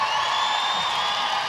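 A packed arena crowd cheers and applauds at a FIBA Women's Basketball quarter-final between Belgium and Australia, forming a steady, loud wash of noise with no break.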